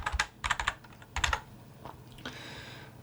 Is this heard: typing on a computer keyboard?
yes